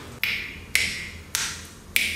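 Finger snaps by a snap storyteller on a Danish TV show: four crisp, close snaps spaced roughly half a second apart against a quiet background.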